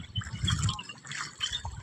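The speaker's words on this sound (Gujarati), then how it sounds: "આમાં પાણી આવી ગયું કેવી રીતના જાય છે" Rainwater flowing and trickling through a village pond after heavy rain, a steady liquid gurgle and splash that swells and eases in soft surges, fairly close.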